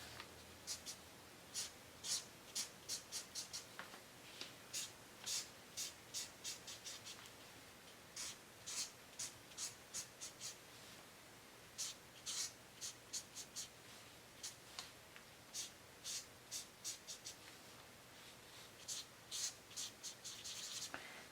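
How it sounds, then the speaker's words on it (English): Markers squeak and scratch across paper in soft, rhythmic strokes, quiet, close bursts of curved lines and filling-in that come in clusters with brief pauses between. "Drawing a curved line, another curved line, and filling it in"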